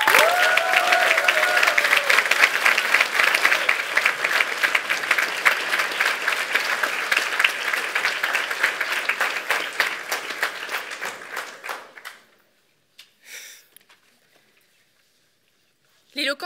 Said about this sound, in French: veuillez maintenant applaudir Madame Dana Salama